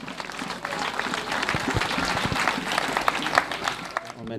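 A church congregation applauds at a revival gathering, a steady bed of clapping and crowd noise with shouts and voices mixed in, continuing loudly throughout.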